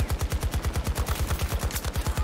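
An AK rifle fires a sustained, evenly spaced automatic burst in Battlefield gameplay, loud and close with a steady rapid rhythm throughout.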